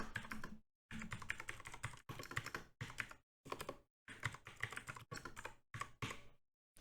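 Someone types a description into a data-entry form for village aid recipients on a computer keyboard, in rapid close-up bursts of keystrokes separated by short silent pauses.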